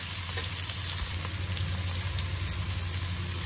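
Onion, garlic and ginger sauté in hot oil until browning for lamb soup, giving a steady, close, even sizzle with no voices.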